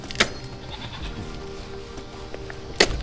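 Goats waiting to be fed fresh banana leaves, two short, sharp bleats near and loud, one at the start and one at the end, over faint outdoor background noise.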